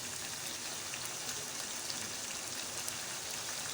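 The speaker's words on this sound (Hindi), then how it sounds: "ये 3 से 4 मिनट हो चुके हैं हमें इसे फ्राई करते हुए चिकन को।" Chicken with ginger and garlic frying on a high flame for chicken karahi produces a steady, close, even hiss and crackle of sizzling oil throughout, with no talk.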